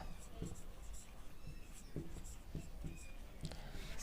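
Pen writing notes on paper, faint scratchy strokes in short irregular bursts under a low steady background hum while someone talks quietly.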